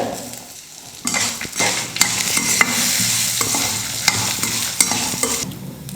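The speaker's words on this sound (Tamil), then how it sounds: "உளுந்து, தேங்காய், புளி, வரமிளகாய் எல்லாமே நல்லா வறுந்துடுச்சு" Urad dal, coconut pieces, tamarind and dried red chillies are dry-roasted and stirred in a pan, producing a steady close rustling and sizzling scrape, with sharp clinks of the spoon against the metal and no speech.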